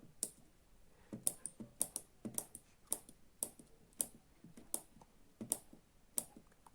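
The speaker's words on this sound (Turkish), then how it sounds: "Şimdi yazıyorum yanlış numaramı." Number keys on a homemade SIM900 keypad phone built around a PIC16F877A are pressed one after another, producing a steady run of crisp, close clicks at roughly even intervals with no talking.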